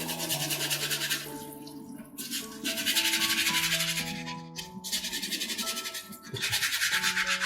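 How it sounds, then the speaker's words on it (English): Hands are scrubbed clean before making bread dough, a close rhythmic brushing rub in repeated strokes over soft music, with no talk. "first things first, let's clean our hands"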